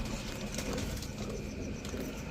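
A pair of golden Pakistani teddy pigeons coo close by, soft low throaty murmurs repeating over a couple of seconds.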